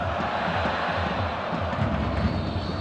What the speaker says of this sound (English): The crowd have been excellent.